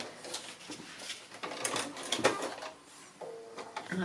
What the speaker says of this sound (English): So I'm just sewing on piece B5